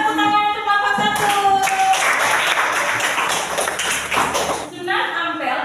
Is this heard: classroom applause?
yes